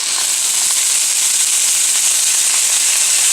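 Ground meat with garlic, spices and onions browns in a pan, giving a loud, steady, close-up sizzle with a bright hiss and no pauses.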